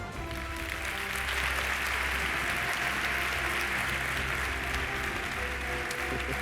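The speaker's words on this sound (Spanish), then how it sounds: "Un fuerte aplauso para Javier Hurtado." An audience at a Spanish Diabetes Society congress applauds steadily and fairly loudly, a dense, even wash of clapping that holds for several seconds with no talk over it.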